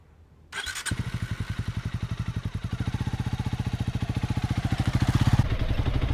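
A Honda CRF 300 Rally motorcycle engine fires up and pulls away, its rapid, steady exhaust pulses growing louder and slightly quicker as it rides off, close and loud with no talk.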